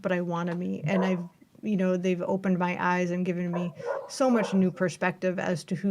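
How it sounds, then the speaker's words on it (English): A puppy barks and yips repeatedly, close by and fairly loud, mixed in with ongoing conversation between people. "Oh no, we have a puppy. She barks."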